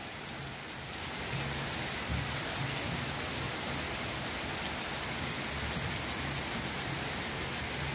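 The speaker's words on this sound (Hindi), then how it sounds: "तो फ्रेंड्स दिखाते हैं आपको बारिश कितनी भयंकर वाली हो रही है हमारे यहाँ पे" Heavy rain pours down in a dense, constant hiss that swells in the first second, then roars on steadily without any voices.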